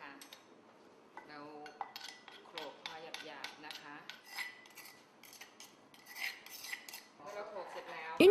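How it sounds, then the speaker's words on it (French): Repeated grinding and pounding of Thai grilled chicken marinade ingredients with a mortar and pestle, a close, steady run of scraping, clinking strokes with no voices. "le pilon pour broyer le tout bien minutieusement"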